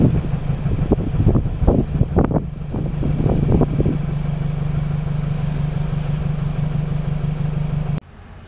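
A 2009 Toyota Hilux 3.0-litre 1KD-FTV diesel runs during a decarbon treatment: a loud, steady low engine drone with a few irregular knocks and surges early on, which cuts off abruptly near the end.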